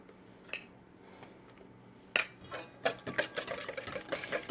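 Pancake batter for Disney Contemporary Resort's Top of the World pancakes being whisked in a bowl: faint scattered taps at first, then a close, steady run of rhythmic clicking and scraping strokes, with no voices.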